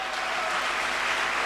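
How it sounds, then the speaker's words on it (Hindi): Steady audience applause greeting a guest at a motivational speech event, an even, continuous patter of many hands heard at a moderate distance. "मैं चाहूंगा सर के लिए जोरदार तालियां हो जाएं।"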